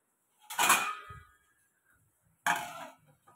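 A metal lid set down on a cooking pot of rice on a gas stove in a home kitchen, two sharp clattering clanks about two seconds apart, each ringing briefly and fading, with no talking.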